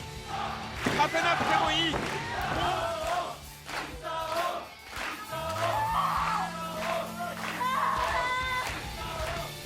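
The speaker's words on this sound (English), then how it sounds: "The Misao chants begin growing from the crowd" A crowd in the video game Hyper Misao chants Misao's name, rhythmic massed voices rising in repeated bursts over a backing of sustained musical tones, fairly loud and continuous.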